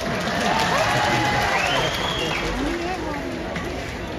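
Applause and crowd noise from an audience at a party central-committee election results announcement, a steady broadband wash of clapping mixed with murmuring voices throughout.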